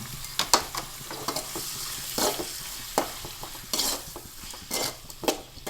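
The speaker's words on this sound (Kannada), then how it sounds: "ಈಗ ಈ ಮೀನುಗಳನ್ನೆಲ್ಲ ಆ್ಯಡ್ ಮಾಡಿ ಒಳ್ಳೆ ಮಾಡಿ ಸ್ವಲ್ಪ ಫ್ರೈ ಮಾಡಬೇಕು." Prawns stir-fried in a pan for Mangalore-style prawn sukka, with repeated scraping and clinking of a spoon against the pan over a steady sizzle, close and fairly loud, no voices.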